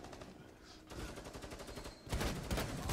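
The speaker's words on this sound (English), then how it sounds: "They've got a shock, shock drone. He shot me twice." A shock drone firing in Rainbow Six Siege, with fast rhythmic zapping and rattling pulses that grow louder and denser toward the end, a faint voice under the noise.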